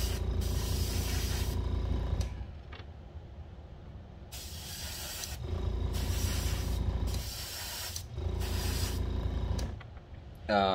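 Humbrol spray paint hisses from a can in four or five bursts of about one to two seconds each, close and fairly quiet, with short quiet gaps between them and no voices.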